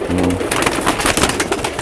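Pigeons in a rooftop loft of high-flyer birds near Jaipur and Tonk, cooing and fluttering close by in a steady, busy wash of sound.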